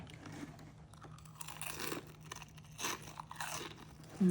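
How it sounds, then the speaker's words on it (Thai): Close-up crisp crunching of a crispy protein snack, bite after bite in an irregular rhythm, with no talking. "ฟังเสียงความกรอบดีแม่"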